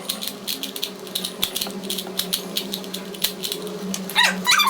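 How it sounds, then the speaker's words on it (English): A plastic Rubik's cube is twisted rapidly, producing quick irregular clicks and rattles close up, with a faint low hum behind. "let's shuffle this thing up."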